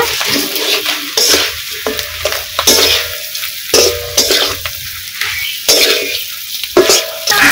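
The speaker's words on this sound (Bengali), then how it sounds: "এই যে ভাজা আছে, দিয়ে মশলার সঙ্গে আর একটু কষিয়ে নেব" Fried fish stirred into a spice masala in a pan, with a steady sizzle and repeated scraping stirs of a spatula against the pan, close and fairly loud.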